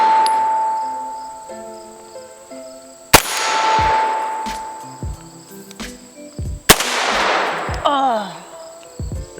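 Two sharp gunshots ring out at targets several seconds apart, each with a quick ringing decay, while voices talk quietly in between.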